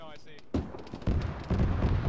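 Heavy gunfire bursts in an Arma military game session, with three loud booming reports at roughly half-second intervals, each with a rumbling tail, in the style of an autocannon firing close by.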